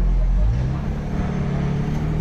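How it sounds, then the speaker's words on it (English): A delivery truck, too tall for a car, rolls past on a street, a steady low engine rumble and tyre roar holding loud and close for the whole stretch. "maybe this is a truck"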